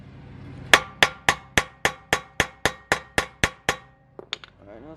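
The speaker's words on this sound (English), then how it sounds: "So all you do is just hammer it in." A hammer drives a 12-point socket onto a wheel lock on a Nissan 350Z: about twelve sharp metallic strikes in a steady, even rhythm, ringing slightly, followed by a few lighter taps and a brief voice.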